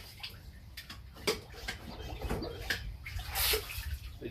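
A garden pump sprayer squirts water in short hissing spurts with splashing and dripping, close at hand and moderately quiet, mixed with small clicks and ticks from the sprayer.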